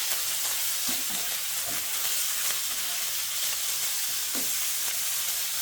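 Steady hissing sizzle of small pieces of sliced pork stir-frying in a hot wok, with occasional scraping stirs of a spatula, continuous and close, no voices.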